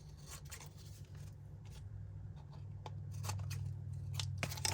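Scissors trim a paper note pad up close, a string of quiet crisp snips and papery crunches in an uneven rhythm over a low background hum, with no talking.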